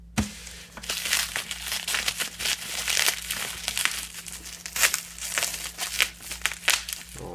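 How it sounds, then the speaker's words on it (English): Box packaging for a Boeing 747-400LCF Dreamlifter model is unwrapped by hand, with continuous close crinkling and crackling of plastic and paper in irregular bursts, no talking. "I can unbox it by my hands."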